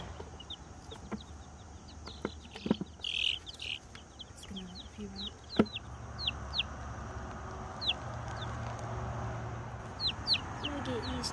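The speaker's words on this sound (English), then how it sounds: "Little chicks." Small chicks chirp and cluck in short, high, scattered peeps, close and fairly faint, with a few brief voices and handling noises around them.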